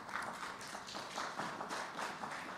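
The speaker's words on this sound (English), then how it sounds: "please welcome Josh with your applause" An audience at an energy security conference session applauds to welcome a speaker, a steady wash of clapping heard at a distance and fairly faint throughout.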